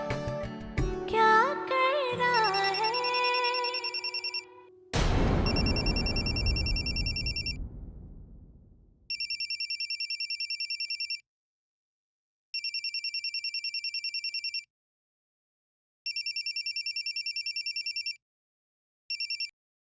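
A telephone rings in a Hindi TV drama, with electronic trilling bursts repeating at even intervals after a burst of background music and a crash, loud and clear with silence between rings.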